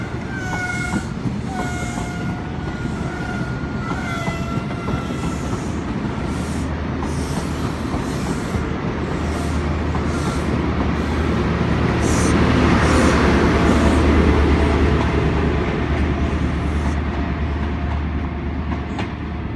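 Trains rumble through Exeter St David's station on a sunny day, with loud wheel noise, squealing and clattering rail clicks building to a heavy close pass, plus a few short high tonal squeals early on.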